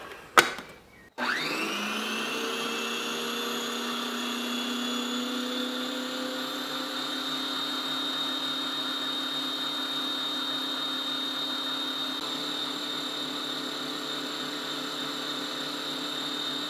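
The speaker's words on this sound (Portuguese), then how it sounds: "E agora vou bater até formar um creme." An electric mixer beats eggs with refined sugar into a cream for a condensed-milk coconut cake, starting abruptly and then whirring at a steady, loud, unbroken drone.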